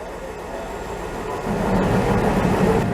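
An ÖBB train pulls into a Vienna station platform, a steady low rumble and rolling clatter that grows louder partway through as it draws near.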